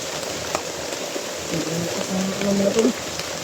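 Heavy rain pours with rushing water from a swollen stream in a daily downpour, a dense steady hiss with a few low rumbling swells toward the end.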